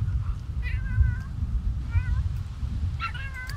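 A cat in The Sims 3 video game gives three short, plaintive meows spaced about a second apart over a dense low background rumble of game ambience.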